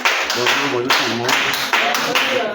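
A church congregation claps and acclaims the Lord at a worship service, a steady dense crowd applause with cheering voices mixed in, loud and close throughout.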